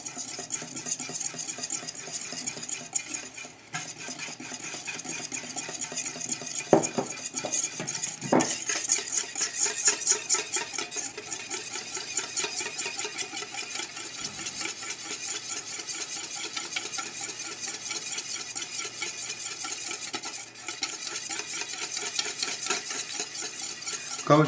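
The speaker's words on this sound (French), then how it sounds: "mélanger les 75 g de préparation de crème pâtissière avec le lait froid" A whisk or spoon stirs pastry cream mix into cold milk, producing steady, rapid clinking and scraping against a bowl, close and continuous with no talking.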